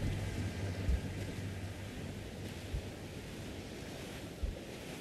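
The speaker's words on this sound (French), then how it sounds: "Le vent a forci." Steady sea wind and rolling surf around a sailing ship in the pirate game Assassin's Creed Black Flag, a broad continuous roar with a few soft low thumps, no voices.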